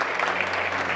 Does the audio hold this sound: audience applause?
yes